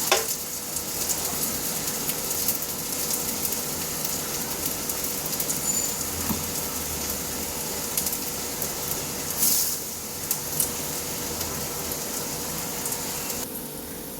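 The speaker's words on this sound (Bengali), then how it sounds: "শ্যালো ফ্রাই করে নিচ্ছি" Snacks shallow frying in oil give a steady, fairly loud sizzle with a continuous crackling hiss that runs unbroken throughout, with no voices.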